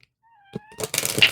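A house cat gives a rising, drawn-out meow, followed by a louder, harsher burst of cat vocalizing, all close up indoors.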